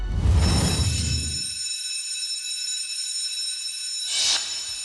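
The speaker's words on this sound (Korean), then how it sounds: "만약 내가 자고 있을 때 화재 경보가 울리면" A fire alarm rings with a steady, continuous electronic tone throughout, with bursts of louder noise at the start and again near the end.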